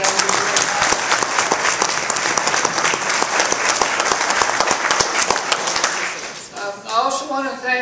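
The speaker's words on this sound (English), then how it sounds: "So if we can give them a big round of applause too, that would be great." A crowd applauds at a town hall meeting, sustained clapping at an even level for about six seconds, then fading as a voice begins speaking.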